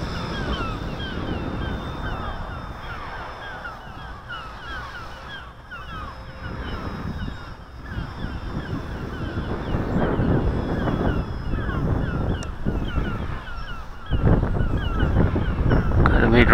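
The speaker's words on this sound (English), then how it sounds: "Really fighting the wind today." Strong gusts batter the microphone outdoors while a model plane with a 1000kv motor and 11x4 prop is flown, a steady roaring rush that swells louder toward the end, with no distinct engine tone standing out.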